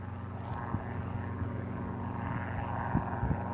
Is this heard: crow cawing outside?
no